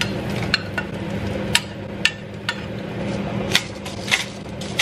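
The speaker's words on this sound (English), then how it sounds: "Garlic and onions now in with the potatoes." Garlic and onions tumble into a pan of cooking potatoes, with a steady low hum and scattered sharp clinks and taps of a utensil stirring against the pan.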